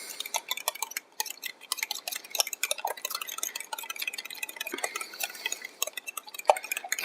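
A utensil stirs crepe batter laced with a hint of amaretto in a bowl, giving soft, irregular clicks and liquid taps close by, quiet and uneven for several seconds with no talking.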